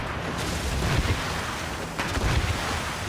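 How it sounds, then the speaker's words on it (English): Cannon volleys from sailing warships in the naval combat of Assassin's Creed Rogue, loud booming blasts around one and two seconds over a continuous roar of sea and battle noise. "They're cannon! Get out of the way!"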